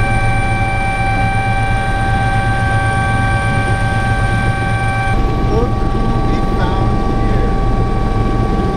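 An Uber helicopter in New York produces a loud, continuous rotor and engine drone with steady whining tones that drop out partway through, leaving a rougher rumble.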